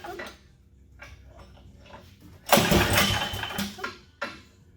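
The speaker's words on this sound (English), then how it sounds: "Let's start it back up again and see what happens." Small engine after a carburetor cleaning, ticking and clicking while being cranked, then catching with a loud rough burst of sputtering running noise that briefly fades and surges again.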